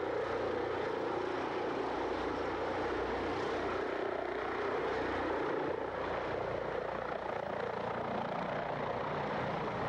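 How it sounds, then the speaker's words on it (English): A Bell XV-15 tilt-rotor aircraft flying at a demonstration, a steady, moderately distant rotor and engine roar that holds at an even level throughout, with no speech. "This demonstration of the XV-15 tilt-rotor aircraft today was flown by Mr. Gorman Cannon and Mr. Roy Hopkins"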